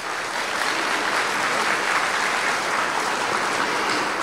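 An audience of Russian schoolchildren applauds Ramzan Kadyrov during a question session, a thick, even wash of clapping sustained throughout.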